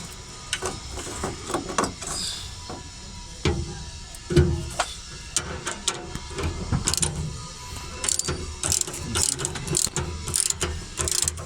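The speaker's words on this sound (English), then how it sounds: "You can see we take out that bolt." A ratchet works loose a bolt on the petrol filter cover of a Fiat Strada, giving repeated close pawl clicks in uneven bursts with metallic knocks between strokes.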